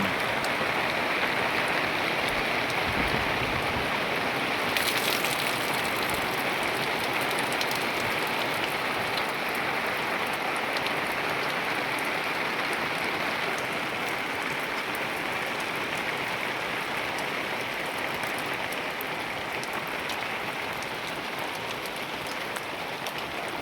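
Heavy monsoon rain pours steadily in a dense, unbroken hiss that stays loud and even throughout, with a brief sharper burst early on.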